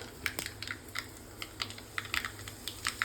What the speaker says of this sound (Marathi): यात घातली मोहरी, थोडं जिरं